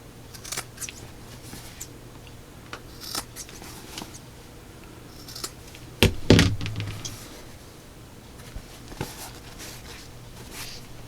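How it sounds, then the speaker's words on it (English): Scissors clipping the corners of fabric in a sewing project, a few quiet snips scattered over the stretch, with one sharp thump midway, close and without talk. "So now I'm just going to clip my corners, making sure you don't go through your seam allowance."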